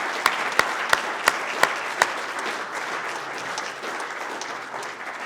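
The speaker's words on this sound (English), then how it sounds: "Let's give them another round of applause." Audience applause for veterans at a Rotary Club Veterans Day recognition: several sharp, loud individual claps at the start, then a softer ongoing patter of clapping from the room.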